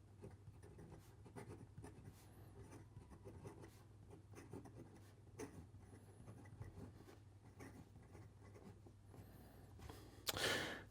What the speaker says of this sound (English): And here we go with the rest of the writing sample.